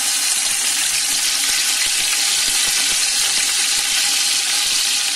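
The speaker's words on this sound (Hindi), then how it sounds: "अब इसके अंदर में अदरक लहसुन का पेस्ट ऐड करूंगी।" Ginger garlic paste fries with onions in a hot pan for chicken tahari, a loud, dense, steady sizzle that runs unbroken from start to finish.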